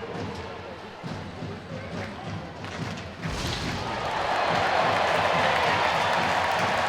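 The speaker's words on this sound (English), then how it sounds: "Steelers crowd enjoying the hit coming in from Kolamainen" Ice hockey crowd at a Sheffield Steelers versus Manchester Storm EIHL game, thumps and chatter building into a loud, sustained roar of cheering after a big hit, under a commentator's voice.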